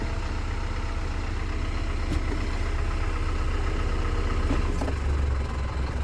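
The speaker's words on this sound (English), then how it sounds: "Maybe it's just a little more noticeable because of the louder diesel engine." A diesel engine in a large RV idles with a steady low rumble, close and continuous, with a couple of faint clunks as it is put into gear and a slight dip in pitch near the end.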